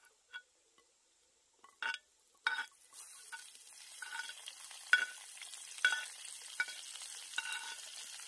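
Bacon frying over a campfire, a few quiet clicks and scrapes first, then a steady soft sizzle and crackle with sharp pops and taps from about three seconds on, close by, no talk.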